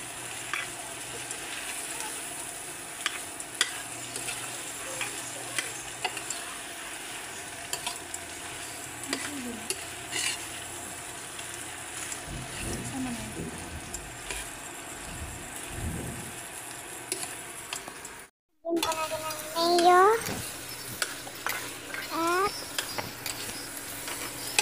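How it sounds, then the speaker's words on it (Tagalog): Pork sisig sizzles steadily in a pan while a utensil scrapes and stirs it in irregular strokes, with a brief cut in the middle before louder stirring and frying resume. "Nagluluto tayo ng pork sisig ngayon."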